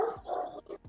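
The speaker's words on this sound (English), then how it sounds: "That's my dog barking." A dog barks once or twice in quick succession, short and muffled, at a moderate distance.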